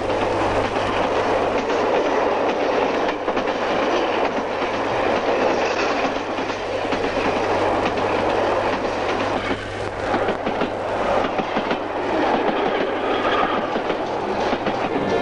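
A Soviet express passenger train rolls steadily along the rails, a continuous rumble with rhythmic clatter of wheels, close and loud throughout.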